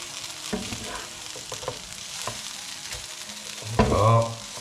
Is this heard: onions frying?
yes